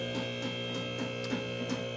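A car lift raises a 2014 Cadillac CTS-V wagon, giving off a steady, low electric-motor hum with a constant mechanical drone and faint rhythmic ticking.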